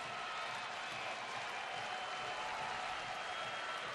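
Steady, dense crowd roar at a Cleveland baseball game in the fifth inning, a continuous wash of cheering and murmur from a large stadium audience heard at a distance, with no distinct voices standing out.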